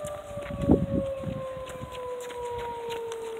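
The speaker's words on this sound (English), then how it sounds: "Yeah, but where's that siren at?" Tornado civil defense siren sounding in Richfield, Ohio: a steady, slowly falling wail carries through the whole stretch, with brief footstep-like thumps and rustling near the start.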